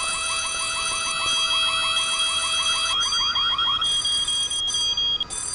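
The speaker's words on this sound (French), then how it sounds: "L'alarme incendie sonne." A fire alarm rings inside a school in the horror video game White Day, a steady electronic tone over a rapid repeating chirping pulse that stays loud and continuous, with brief breaks near the end.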